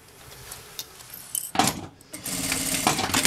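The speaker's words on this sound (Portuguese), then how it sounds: "a gente vai passar uma costurinha de 2 centímetros em todas as marcações" A sewing machine runs in short bursts while stitching small two-centimetre seams at marked points on a fabric bag, with quiet pauses between the stitching runs and a steadier, longer run toward the end.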